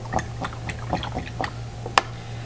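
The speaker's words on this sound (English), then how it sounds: "rinse my paintbrush off" A paintbrush is swished and rinsed in a cup of water, giving soft, quiet splashes and drips in an uneven rhythm with one sharper clink near the end.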